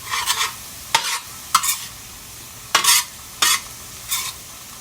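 Ground meat for shepherd's pie is stirred in a pan, with short scraping stir strokes and light sizzling at irregular intervals, close and moderately loud.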